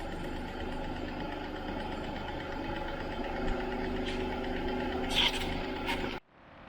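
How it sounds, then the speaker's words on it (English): A BMW E36 engine idles in a low, even rumble after a mass airflow sensor swap, heard steadily at moderate distance with a couple of faint sharp clicks near the end before it cuts off. "I got it idling after swapping mass airflow sensors and letting it just run for a minute"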